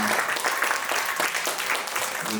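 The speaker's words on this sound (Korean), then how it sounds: "큰 박수 부탁드립니다" A crowd at a church praise gathering claps for a scholarship recipient, producing a brisk burst of many hands that stays fairly even and then thins toward the close.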